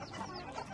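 A Transylvanian naked neck hen at her nest gives a brief, low, soft clucking, faint and close, lasting under a second.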